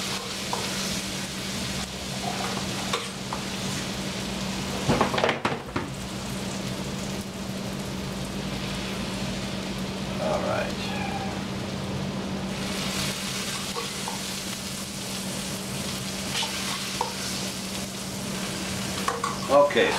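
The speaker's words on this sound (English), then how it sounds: "You heard that sizzle?" Food sizzles and crackles in a hot pan, a continuous hiss with occasional louder spits and the scrape of stirring pasta with pancetta.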